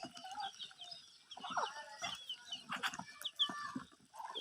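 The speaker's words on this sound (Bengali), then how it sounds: "আমাদের সবগুলো হাঁসকে আমি সন্ধ্যাবেলায় এক টাইম খাবার দেই" A flock of ducks at their evening feeding on rice bran, paddy and wheat, with busy overlapping quacks and clucking calls, near and fairly faint, with no talk.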